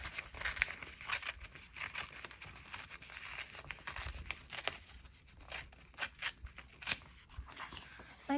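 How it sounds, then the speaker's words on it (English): Paper torn by hand for scripture journaling, with soft crinkling and repeated short ripping bursts at an uneven pace, close and fairly quiet, with no talking. "So I'm just going to start tearing this."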